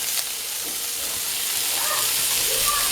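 Jalapeno bacon duck wraps sear in hot oil, giving a steady, close, broadband sizzle and hiss that runs unbroken and even throughout, with small crackles popping over it and no talking.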